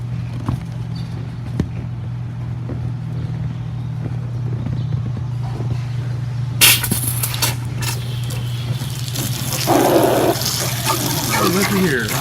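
Bow water sprayer on a 1998 Carver 350 Mariner boat, pump-pressured water spraying in a hissing rush that starts abruptly partway through over a steady engine hum.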